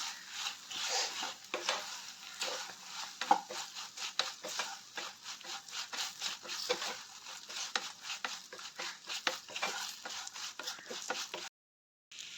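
Kerala-style chili pickle masala with fenugreek powder and asafoetida being stirred and sautéed in a pan: a quiet, irregular run of scraping and stirring strokes with a faint sizzle, ending in a brief silence.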